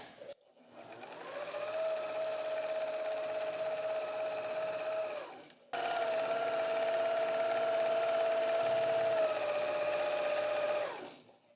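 A sewing machine hums steadily through two long runs of meander quilting, each starting and stopping cleanly with a brief pause between, close and even in pitch.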